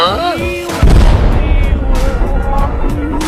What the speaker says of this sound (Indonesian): Kebetulan ia ada di dekat ledakan.